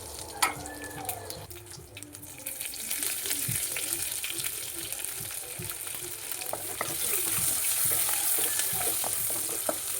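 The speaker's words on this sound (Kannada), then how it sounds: "ಜೀರಿಗೆ, ಸಾಸಿವೆ, ಕರಿಬೇವು ಸೊಪ್ಪು, ಸ್ವಲ್ಪ ಒಣಮೆಣಸಿನ್ಕಾಯಿ ಇವನ್ನೆಲ್ಲವನ್ನು ಹಾಕಿ ನಾನು ಫ್ರೈ ಮಾಡಿ" Cumin, mustard seeds, curry leaves and dry red chillies sizzle and crackle in hot oil for a village-style tempering, a steady frying hiss with scattered pops and stirring clicks, growing louder toward the end.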